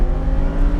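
A sports car on a cone-marked driving course accelerates under power, its loud engine a steady, dense low roar with no pauses and no talk over it.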